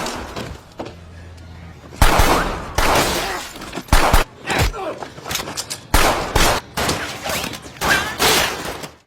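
Loud gunfire crackles through an action film shootout, with bursts of sharp shots in rapid clusters and short gaps between volleys, close and intense.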